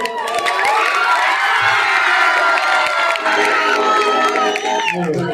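Loud, dense crowd noise at a stage music program: sustained cheering and shouting with scattered clapping, continuous from start to finish.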